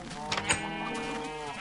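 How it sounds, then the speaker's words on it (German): A chicken in Minecraft gives a few quick, soft clucks close by, followed by quiet ambience. "Gut, züchten wir noch ein paar Hühner."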